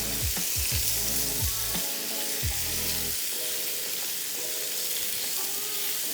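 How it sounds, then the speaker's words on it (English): Paneer searing in a hot pan, a steady bright sizzle with a few low knocks of the pan at the start, close and continuous with no talk. "So just a quick sear on both sides just like this, okay."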